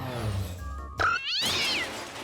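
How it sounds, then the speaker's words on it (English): Several cats meowing indoors, with a short high meow followed by a longer rising and falling meow, fairly close and moderately loud over a low background hum. "There's a lot of cats in here."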